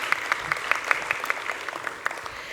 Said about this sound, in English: Let's give a round of applause to our president.